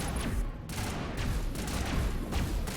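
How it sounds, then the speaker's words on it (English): Loud sniper rifle fire in the video game Mass Effect: dense, booming gunfire with sharp cracks throughout. "I have a sniper rifle."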